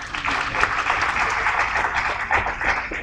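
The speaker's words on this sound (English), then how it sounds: "Please clap for Funola." Loud, steady applause from a crowd at an investiture ceremony, dense clapping that fills the whole moment without a break.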